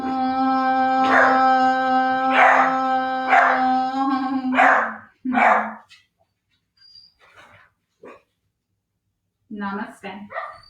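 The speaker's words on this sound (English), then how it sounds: "They're all going to bark because my husband is home." Several dogs at home bark and howl together, loud and close, with sustained howls giving way to sharper barks and yips, then a pause and a final burst of barking.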